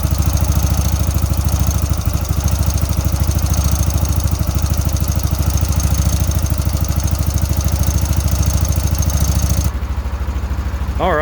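A Yamaha Rhino side-by-side engine idles steadily after an oil leak repair, giving a loud, even, continuous mechanical drone with a fast pulsing rhythm that drops slightly in level near the end.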